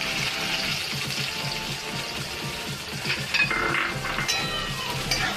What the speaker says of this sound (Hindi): प्याज को हम चलाते रहेंगे जब तक कि ये सॉफ्ट ब्राउन ना हो जाए